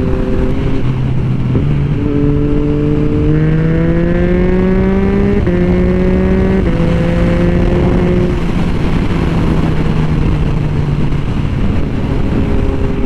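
A Harley-Davidson Sportster 1200cc motorcycle accelerates hard through several gears, engine pitch climbing and dropping at each shift, loud and close throughout with no talking.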